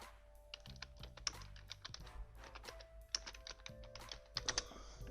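Rapid, uneven keystrokes clatter on a computer keyboard whose keys are not working properly, close and fairly quiet, with irregular bursts of clicks and a faint background hum.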